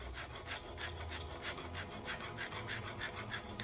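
A high vanadium steel knife drawn repeatedly across a ceramic sharpener, a steady rasping scrape in quick back-and-forth strokes, close and moderately loud with no speech.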